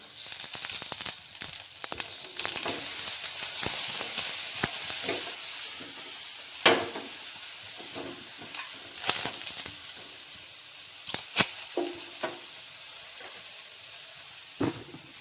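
Cloves, cinnamon and thin eggplant sizzle in hot oil, a bright steady hiss up close with sharp crackles and spatula knocks scattered throughout.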